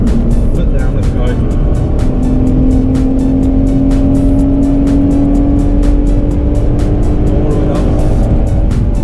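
Hyundai Coupe accelerating hard around the Bedford Aerodrome circuit on a track day: a loud, continuous engine drone climbs steadily in pitch throughout, with voices speaking over it inside the car.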